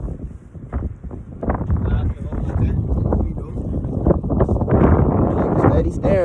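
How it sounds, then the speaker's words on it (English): Steady wind buffeting the microphone, a broad low rumble throughout, with people talking over it. "it's too windy for that"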